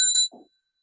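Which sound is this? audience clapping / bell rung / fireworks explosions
bell rung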